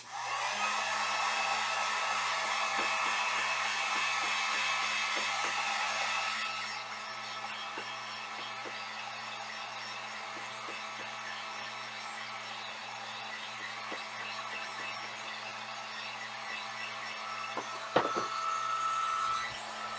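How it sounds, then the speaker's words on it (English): A heat gun drying paint blows with a loud, steady whooshing hum, then drops to a quieter drone, with a brief knock near the end. "So I'm going to get out my heat gun. Sorry, it's a little loud."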